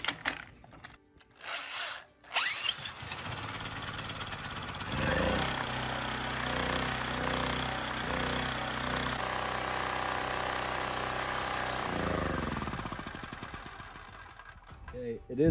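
A small portable generator engine, freshly cleaned carburetor, catches after a few pulls and runs wide open with a steady buzzing drone, close and fairly loud, fading near the end while someone talks briefly.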